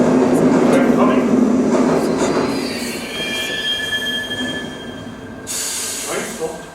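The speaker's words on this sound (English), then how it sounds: "Train stopped." A train rolls in and brakes to a stop, its steel wheels letting out sustained high-pitched squeals over a heavy low rumble that gradually eases, with a sharp hiss of air near the end.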